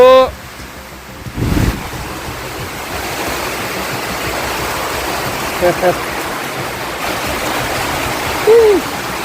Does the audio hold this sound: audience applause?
no